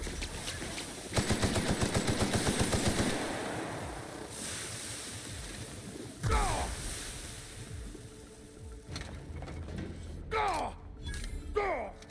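Gunfire erupts in The Outer Worlds during a fight aboard a derelict station: a rapid automatic burst early on, then sharper separate shots later over a windy ambient hum, with voices in between.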